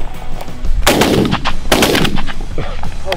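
Loud, close shotgun blasts from goose hunters during early goose season, two heavy booming reports roughly a second apart with a fainter crack trailing after, and no talking.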